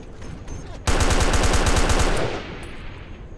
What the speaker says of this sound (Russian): Еще пулемет.